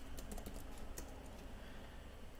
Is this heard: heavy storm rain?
no